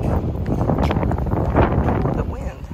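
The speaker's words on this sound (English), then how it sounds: "The wind, okay." Gusty wind buffets the microphone outdoors at a book launch party, a steady loud rumble that swells and dips, with a voice speaking over it.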